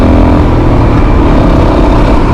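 Suzuki DRZ400 dual sport motorcycle engine while riding, a loud, close, steady drone mixed with heavy wind rush, continuous and without speech.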